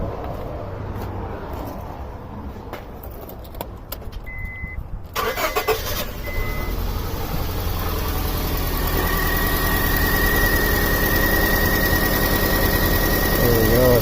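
A 2003 Honda Civic 1.7L with a restricted exhaust cranks with a short starter whir, then catches and settles into a steady idle that grows louder, with a thin whine above the engine noise.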